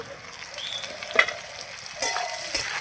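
Pointed gourd, potato and onion frying in a pan, giving a steady soft sizzle with a few faint scraping stirs, close and unbroken by talk.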